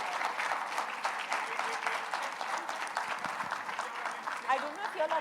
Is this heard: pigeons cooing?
no